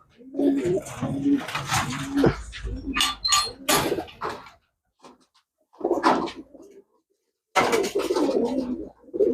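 White pigeons coo in short, throaty bursts, fairly close and loud, with gaps of silence between the phrases.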